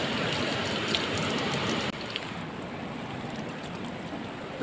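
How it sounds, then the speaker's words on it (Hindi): Water runs for washing hands at a temple in the hills, a loud, continuous close-up rush and splash that stays steady throughout, with no talk. "तो यहाँ पे पानी है तो यहाँ पे पहले हम हाथ धो लेते हैं।"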